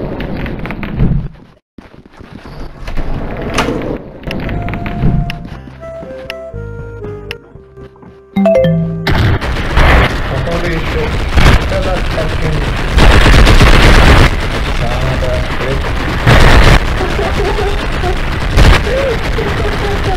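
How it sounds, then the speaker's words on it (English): Explosive-ammo gunfire in the video game Blood and Beacon, loud rapid bursts and booms that build into a dense, sustained barrage after a sparser, musical opening. "I put explosive ammo in all the weapons today"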